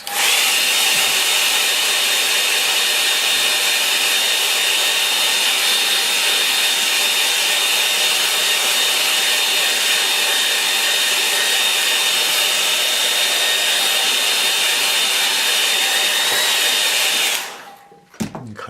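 A hair dryer blows steadily over a wet watercolour painting, a loud continuous whirring hiss with a faint whine that holds for about seventeen seconds before cutting off abruptly.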